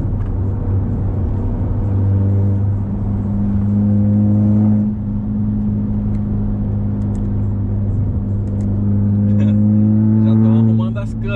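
An Audi A3 Sport or Citroen DS3 engine is revved gently while parked, a steady close-up hum with clear engine tones that rise, dip and rise again over several seconds.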